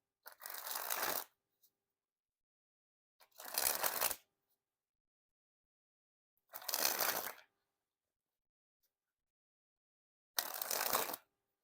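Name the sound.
Snackers Blueberry Edition playing cards doing springs flourish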